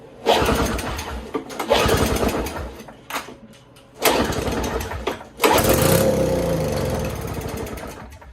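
An Ariens SS522e two-stroke snowblower engine sputters to life in several pull-start attempts, catching briefly and revving raggedly before faltering, then finally running rough and loud, with short pauses between tries.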